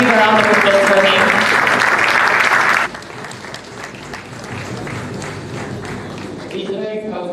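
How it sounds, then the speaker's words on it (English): Ceremony audience applauds a guest, loud dense clapping for about three seconds, then a quieter sustained patter of clapping and crowd noise continuing afterward. "Distinguished guests, let's give a round of applause for him."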